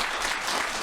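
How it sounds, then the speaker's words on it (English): A brief burst of crowd applause in a parish council meeting chamber, a steady wash of clapping hands lasting under a second. "I appreciate the applause"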